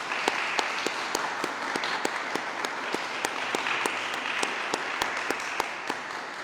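A church congregation at a Second Sunday of Easter Mass applauds a child's first communion, a steady, moderately loud patter of many hands with a few distinct sharp claps standing out throughout.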